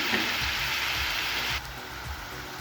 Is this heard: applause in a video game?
no